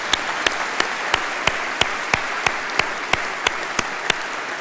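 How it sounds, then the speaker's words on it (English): Audience at a university graduation congregation gives another round of applause, a steady dense wash of clapping with regular sharp claps standing out, sustained and fairly loud throughout. "Could we give her another round of applause, please?"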